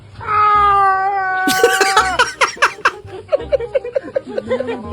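A person imitates a cat in heat with a long, wavering yowl, then bursts of laughter follow.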